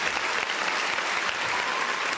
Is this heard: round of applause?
yes